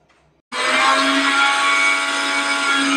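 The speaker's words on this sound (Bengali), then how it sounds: "এবার ব্লেন্ডার করার পালা।" A kitchen blender whirs on abruptly and runs at a steady, loud drone, blending beetroot with a little water and sugar into juice, with a dead-quiet moment just before it starts.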